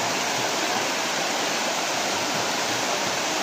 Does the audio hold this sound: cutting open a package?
no